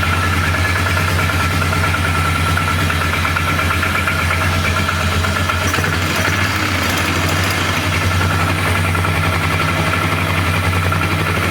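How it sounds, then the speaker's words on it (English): Flood-damaged Polaris 325 ATV engine idling with its top motor mount missing, a steady knocking, rough mid-pitched chug with rattling vibration, close and continuous, no talking over it. "I don't have the top motor mount on, so the motor's kind of jumping around. But hey, it runs."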